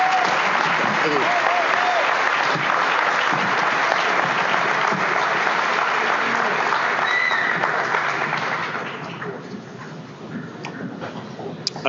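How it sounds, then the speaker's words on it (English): Sustained, dense applause from an audience at a school athletic hall of fame induction ceremony, loud and steady for about eight seconds before thinning out into scattered claps and murmurs, with voices mixed in throughout. "I want to commend you on your applause."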